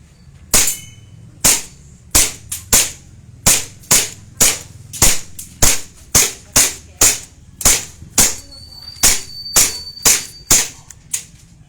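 Tokyo Marui Hi-Capa airsoft pistol firing a rapid string of about seventeen sharp, loud cracks at a steady pace, each shot crisp and close with a short snap, alone with no talk.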